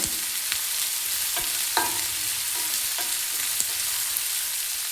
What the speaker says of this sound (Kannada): ಈ ಟೈಮಲ್ಲಿ ಹೆಚ್ಚಿಟ್ಕೊಂಡಿರ್ತಕ್ಕಂಥ ಈರುಳ್ಳಿ ಸೇರ್ಸೋಣ. ಚೆನ್ನಾಗಿ ಮಿಕ್ಸ್ ಮಾಡೋಣ.